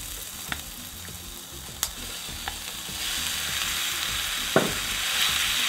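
Ground beef picadillo hits a hot pan with softened onion and garlic, giving a steady close sizzle and frying hiss with occasional scraping stir clicks; no voices.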